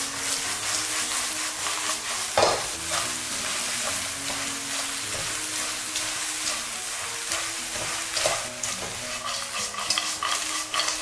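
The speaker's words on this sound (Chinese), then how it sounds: "把饺子皮和果干全部加进来，再来一把黑白芝麻，全程小火不停地给它翻炒" Dumpling wrappers, dried fruit and black and white sesame stir-fried over low heat, a continuous sizzle with constant scraping and tossing as the mixture is turned nonstop, close and fairly loud.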